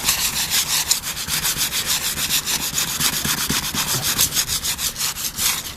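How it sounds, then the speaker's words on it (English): Sandpaper scrubbing rusty bus bodywork metal by hand in quick, rhythmic back-and-forth strokes, a steady close raspy rubbing with no pauses or voices. "And then what I do is I hit it with a little bit of sandpaper just to really clean it up."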